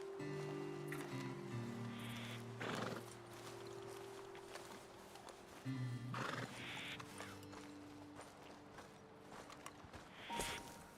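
Horses in the Red Dead Redemption 2 game, with whinnies and neighs over steady clip-clopping hooves and faint creaking tack, fairly close and continuous without talk.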